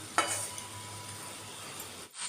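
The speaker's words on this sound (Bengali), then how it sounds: "একটু উল্টে পাল্টে দিচ্ছি আর একটু কম আঁচ করে এই রান্নাটা আমি করছি যাতে মশলাটা একদম ভালো করে ভাজা ভাজা হয়" Spice masala fries in a pan over low heat with a faint, steady sizzle, and a single light stir or scrape is heard early on. The sound is quiet and close, with no talking.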